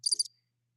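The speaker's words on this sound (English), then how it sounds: "Hopefully you can hear those crickets" Crickets chirping outdoors, a single brief high trill of a few rapid pulses, faint and distant, which quickly fades to silence.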